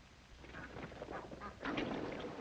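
Wild ducks calling with faint, distant quacking and honking over a soft outdoor background, getting a little louder toward the end.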